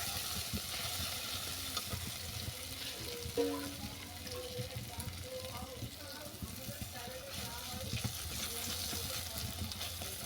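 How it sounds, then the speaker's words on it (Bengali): Bhola fish sautéing with salt in a pan makes a continuous frying sizzle with occasional stirring scrapes, running under a voice that talks over it. "দিলাম স্বাদ মতো লবণ এটাকে হালকা করে কষিয়ে নেবো"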